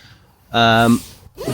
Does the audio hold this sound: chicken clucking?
no